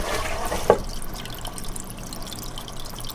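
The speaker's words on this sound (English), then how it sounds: "look at that surface agitation. We got the bubbles and everything we wanted." Air pump bubbles stir the water surface in a betta fish tank, a soft continuous trickling and bubbling with one brief louder splash-like drip near the start.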